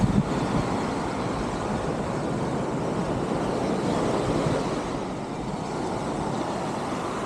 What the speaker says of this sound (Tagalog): tunog ng agos ang madidinig mo sa umaga